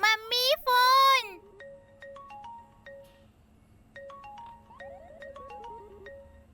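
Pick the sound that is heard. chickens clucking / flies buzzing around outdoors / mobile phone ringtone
mobile phone ringtone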